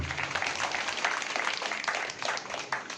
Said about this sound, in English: So a big round of applause. Let us all clap